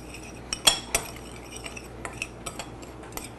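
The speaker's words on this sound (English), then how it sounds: "now a little bit of salt and a little bit of pepper. Okay, let's stir this up." Seasoned food with salt and pepper is stirred in a pan. A spoon clinks against the metal in a few sharp taps, then lighter, scattered scrapes and ticks, close and fairly quiet.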